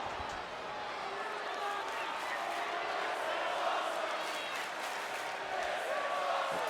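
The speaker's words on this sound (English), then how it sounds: "Crowd are chanting, "This is awesome,"" Video game wrestling arena crowd from WWE 2K, a steady dense roar of many voices chanting and cheering throughout, continuous and fairly loud with no breaks.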